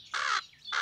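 Cartoon birds squawk hungrily in two loud, harsh crow-like bursts separated by a brief lull, close and clear with no talking.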